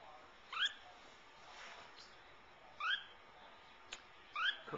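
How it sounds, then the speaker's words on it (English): Lineolated parakeet, also called a barred parakeet, giving a few short chirpy calls, three clear bursts spaced a second or two apart, close and fairly soft over quiet room noise. "This is Miss Cookie, who's a very noisy little bird."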